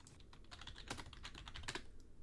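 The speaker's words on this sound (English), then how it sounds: "If we type in our name right away" Quiet, quick typing on a computer keyboard as a name is entered, a short run of light key clicks close by with no talk.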